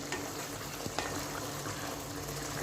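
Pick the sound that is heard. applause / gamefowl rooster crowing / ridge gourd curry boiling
ridge gourd curry boiling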